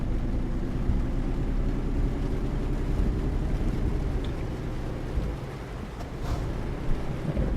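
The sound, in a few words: rain in Euro Truck Simulator 2 video game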